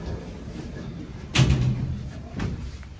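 Lift doors sliding shut, a soft rolling rumble swelling into a brief thud, with a fainter knock a second later against quiet background hum.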